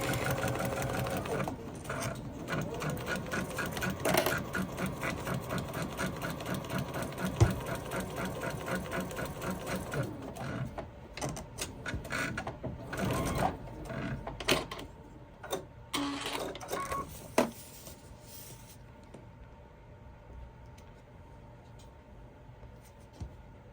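A home sewing machine stitches a temperature quilt in long, steady rapid runs of mechanical chatter, pausing and restarting with slower bursts near the end, close and fairly loud with no talk.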